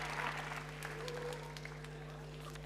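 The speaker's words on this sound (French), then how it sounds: "Vous pouvez les applaudir bien fort." An audience at a ChangeNOW 2024 youth programme session claps for two speakers. The applause is faint and brief over a steady electrical hum, thinning out after the first second.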